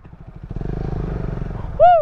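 Yamaha R15 V3 motorcycle revving off-road with its rear wheel slipping, a rapid pulsing engine chug that builds and holds, then a sharp whistling squeal breaks in at the end.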